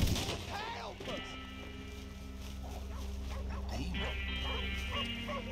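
Dogs bark, yip and whimper in the Red Dead Redemption 2 video game, with game voices talking over them and gunshot-like bangs mixed in.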